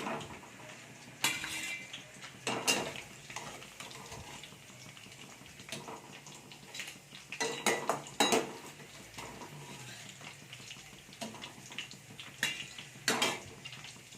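Fried vadai pieces being lifted out and moved into another pot, with sharp metal clinks and scrapes of utensils against vessels coming in short bursts over a quiet kitchen background.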